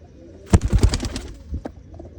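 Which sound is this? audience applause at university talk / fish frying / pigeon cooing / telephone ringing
pigeon cooing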